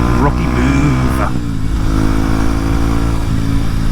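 A 2025 Kawasaki Z900 engine revs hard right after a gear change, loud and close, with a quick rising blip then a sustained throaty drone as the bike pulls on.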